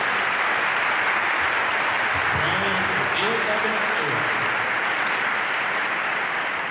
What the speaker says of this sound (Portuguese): uma salva de palmas aí para eles